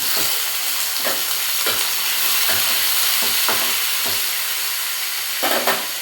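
Garlic, ginger and tomato being sautéed for chayote chutney, a steady loud sizzle with a spatula scraping the pan in regular strokes roughly every second.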